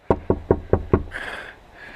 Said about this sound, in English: it is polite just to knock before you enter